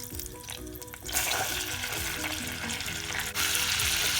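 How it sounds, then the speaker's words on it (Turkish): A steady frying sizzle close up as flour toasts in melted butter for flour soup, with soft scraping and stirring sounds, growing louder and brighter partway through. "Unumuzu kokusu çıkana kadar tereyağla birlikte güzelce kavuruyoruz"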